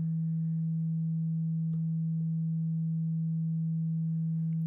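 A Moog Mother-32 synthesizer holds a steady low drone while its envelope modulates the filter cutoff, with faint clicks and slight tonal shifts over a sustained, quiet, even tone and no talking.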